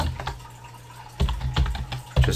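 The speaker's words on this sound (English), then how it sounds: "just some more variable typing here" Keys clatter on a computer keyboard while PHP code is written, coming in short, irregular bursts of rapid taps separated by brief pauses, close and fairly loud.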